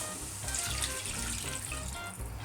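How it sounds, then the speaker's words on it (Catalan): A glass of water pours steadily into a pan of cooking salt cod with raisins and pine nuts, a continuous splashing rush with a slight sizzle underneath. "i de seguida hi afegirem un got d'aigua"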